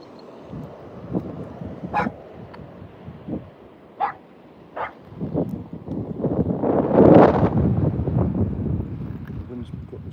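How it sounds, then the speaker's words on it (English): Strong wind buffets the microphone outdoors on a fossil hunting trip, building into a loud, rushing gust midway after quieter stretches, with a dog barking and a voice heard in between. "Wind's got stronger."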